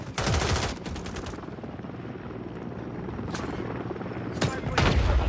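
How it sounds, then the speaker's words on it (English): An enemy overwatch helicopter in a Call of Duty match drones with a loud, steady rotor hum, broken by sharp bursts of gunfire at the start and near the end. "Enemy Overwatch helo inbound."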